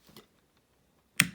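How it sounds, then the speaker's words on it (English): Two sharp keystrokes on a HyperX Alloy Origins keyboard with linear switches, the keycaps bottoming out: a faint click near the start, then a loud, crisp clack about a second later, both close and alone. "That's the sound of the keycap bottoming out."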